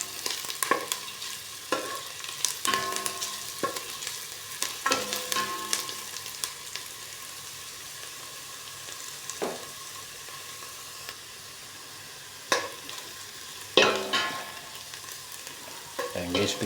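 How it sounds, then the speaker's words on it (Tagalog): Garlic sizzles in a pan for fish adobo while a utensil stirs it, with scraping bursts of stirring that come and go over a constant soft frying hiss. "tapos lagyan na rin natin yung bawang. Haluan natin guys para maluto na guys."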